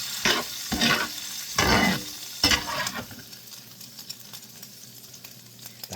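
Hamburger meat stirred in a frying pan: several loud scraping, sizzling bursts come in quick succession, then settle into a quieter continuous sizzle with small pops, close up and without talk.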